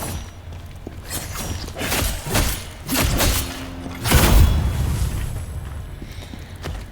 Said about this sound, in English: Careful of the exploding jar there.